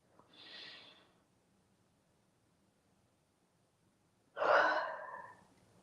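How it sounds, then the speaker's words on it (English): A person yawns twice, pausing in between: first a soft airy breath, then a louder, longer open-mouthed yawn that fades out, with no talking. "Yawn."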